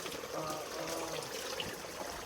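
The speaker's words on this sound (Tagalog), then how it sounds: "sasamahan ako ni Lolo Kiriko na kuha kami ng tubig doon sa tubod" Water running steadily at a spring in the Philippines, a continuous close rushing and trickling wash with no pauses.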